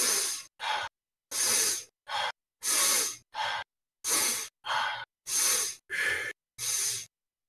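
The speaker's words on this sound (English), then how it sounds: "Keep breathing." Rhythmic breaths in and out during a paced breathwork session, about a dozen distinct breaths of roughly half a second each, separated by short silences, close and fairly loud.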